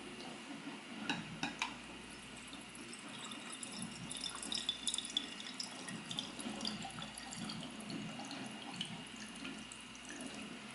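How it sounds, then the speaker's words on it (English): Water pours steadily into a glass mason jar over cold brew coffee grounds, a soft continuous trickle and splash lasting several seconds at low volume with no talking. "So we'll go ahead and pour our water."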